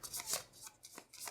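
Someone shuffles the location deck of the Pathfinder Adventure Card Game, quick riffling bursts of card noise close up, several short flurries in quick succession.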